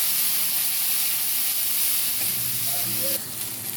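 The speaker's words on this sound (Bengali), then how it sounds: "মশলাটা ভালো করে কষানো হয়ে গেছে" Ground spices such as chilli and cumin fry in oil in a kadai with a continuous close sizzle, broken by brief stirring scrapes toward the end.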